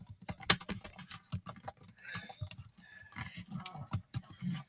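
Rapid clicking keystrokes on an original computer keyboard, close and fairly loud, in uneven bursts with no talking.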